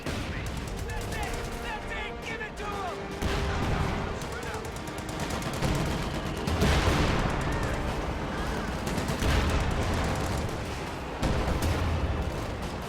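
Machine-gun chatter and heavy Sherman tank gunfire in a World War II strategy game, dense, continuous rattling fire with booming shots layered throughout, under a commentator's voice.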